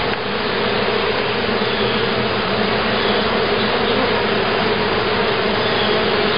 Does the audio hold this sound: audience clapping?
no